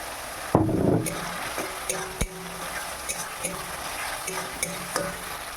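Prawns sizzle in hot oil in a pan seasoned with turmeric and salt, with a loud initial splash followed by steady frying hiss and sharp clinks of a spoon stirring against the pan.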